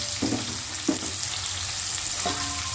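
Sliced onions and potatoes sizzle steadily in a hot pan, with a few louder bursts as pieces are stirred or turned; a continuous close frying hiss with no talking.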